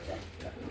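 Racing pigeons cooing inside a ventilated loft with an attached aviary, a soft low continuous murmur of several birds close by.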